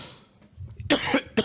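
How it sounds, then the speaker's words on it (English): A single person coughs up close, a short harsh burst followed by a second brief cough, after a moment of near silence. "I have to try to hold back that cough"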